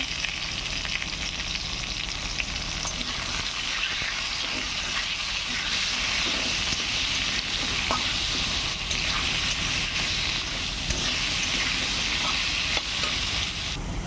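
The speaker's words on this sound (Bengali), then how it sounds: "নুন হলুদ দিয়ে আলুগুলি রান্না করে ভেজে নেবো" Potato pieces seasoned with salt and turmeric sizzle steadily in a hot pan, a continuous close frying hiss with occasional stirring scrapes and no talking.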